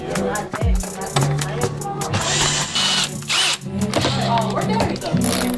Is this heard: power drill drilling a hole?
yes